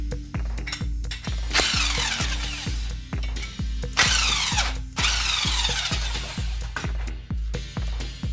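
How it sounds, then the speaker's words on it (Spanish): Small screws being undone on a car brake caliper with a ratcheting tool, a rapid run of sharp clicking ratchet strokes, steady and close, with short bursts of faster spinning between them and no talk. "Quitamos los dos tornillitos de aquí."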